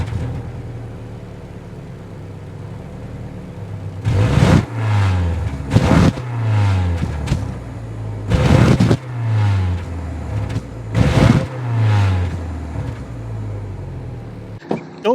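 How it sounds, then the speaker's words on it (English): A 2023 Subaru Legacy sedan engine is started and revved several times, each throaty exhaust roar rising and falling back to a low idle between bursts. "so you can hear that exhaust note"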